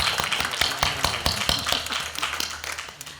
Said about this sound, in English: Can we have a round of applause for the presenters?